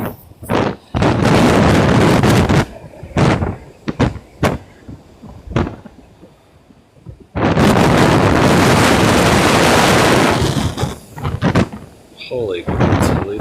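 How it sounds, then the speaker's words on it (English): Strong ocean wind batters the microphone at a seaside home in Taiwan, roaring in loud, heavy gusts that cut in and out, with one long sustained blast near the middle. "it's probably super windy, and if you have to, just turn the sound down"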